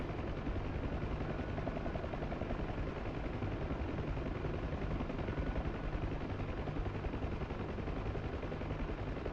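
An NH90 helicopter drones with a dense, steady rotor and engine roar, loud and continuous throughout with no break.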